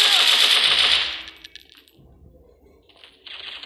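Rapid automatic gunfire from a PUBG-style shooter game, a loud dense burst for about a second that then cuts off, leaving quieter scattered game sounds and a later hiss.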